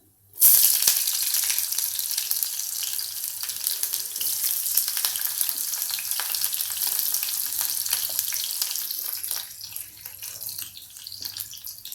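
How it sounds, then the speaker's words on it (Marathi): Onion sautéing in a pan for green chickpea rassa gives off a continuous loud hiss that starts suddenly and holds steady, then eases slightly near the end, with no voices. "आता हा कांदा थोडासा आपल्याला सातळून घ्यायचा आहे"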